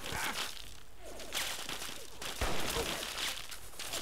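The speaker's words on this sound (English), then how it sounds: "So they're just shooting me with a minigun" Minigun fire in the video game Fallout 3 sounds as rapid bursts of gunfire with sharp cracks and whooshes, dense and intense, mixed with other game effects.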